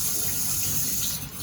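Running tap water used for rinsing, a steady close splashing rush into a sink that carries on unbroken and dips briefly near the end.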